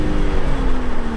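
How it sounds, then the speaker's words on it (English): BMW G80 M3 engine droning through aftermarket intakes, a steady throaty tone held for a brief moment, close and loud with no talk. "But what I can tell you is these intakes sound amazing."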